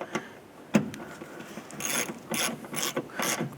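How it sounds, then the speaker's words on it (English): Ratchet tightening a nut on the starter solenoid of a 1993–1997 Ford Ranger: bursts of quick clicking pawl strokes, close and moderately loud, separated by brief pauses. "go ahead and grab your ratchet or your wrench and go ahead and snug that"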